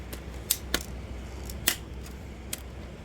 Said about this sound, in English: I'm gonna probably try using the scissors to clip those.